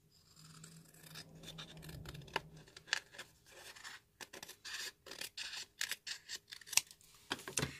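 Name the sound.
scissors cutting an envelope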